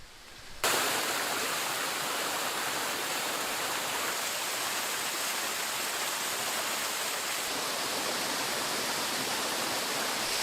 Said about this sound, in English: Just noticed a waterfall coming off of a cliff.